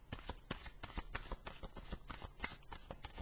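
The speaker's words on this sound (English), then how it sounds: "while I'm shuffling the cards" A deck of tarot cards is shuffled by hand for a reading, giving soft, close, continuous riffling and slapping at a quiet level with no talk.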